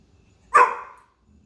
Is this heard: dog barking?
yes